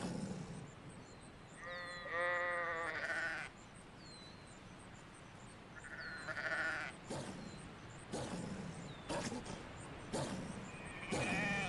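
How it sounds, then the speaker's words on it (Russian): Sheep in The Wolf online RPG simulator game bleat repeatedly, several wavering calls spaced across the stretch among bursts of game noise, fairly close and moderately loud. "Ну-ка, овечка, иди сюда, а."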